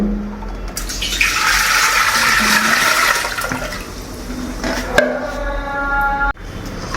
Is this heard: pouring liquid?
yes